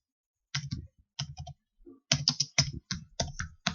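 Clicky typing on a computer keyboard while building a slide presentation, close and distinct, in quick bursts of keystrokes separated by short pauses in otherwise silent surroundings.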